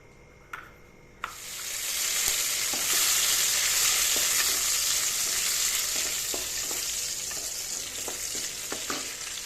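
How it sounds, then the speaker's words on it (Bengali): Hot oil and ghee sizzle loudly and continuously as cashews and raisins fry, after a couple of opening clicks, with occasional light stirring taps over the steady frying hiss. "চলো এখন কাজু কিশমিশটা একটু ভেজে নিই"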